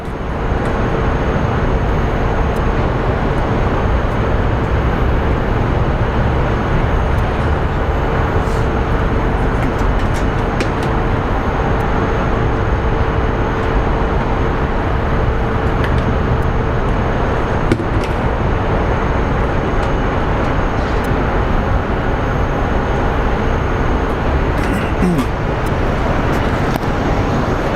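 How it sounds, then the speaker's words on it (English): Global X charter Airbus A320 at Phoenix Sky Harbor airport, a continuous broadband jet roar with a steady whine, heard for a long stretch at a fairly even loudness. "So upcoming, that's the charter plane, Global X. It's an Airbus A320,"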